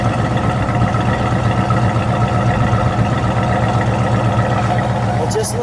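A 1971 Plymouth Road Runner with a 383 engine idling with a lope, a loud, steady, close rumble that holds without a break from start to finish.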